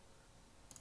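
Two quick, faint clicks of a computer mouse right-click land close together near the end of a near-silent moment, with no voices.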